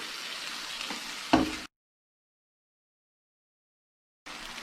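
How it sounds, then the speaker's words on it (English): A whisked sauce mixture poured into a hot pan sizzles and hisses with broadband frying noise, a sharper splash-like burst near the end of the pour, then cuts to silence before sizzling resumes briefly. "We're going to add that mixture to our pan."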